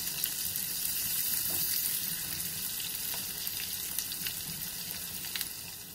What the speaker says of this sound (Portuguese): Vou deixar fritar um pouco.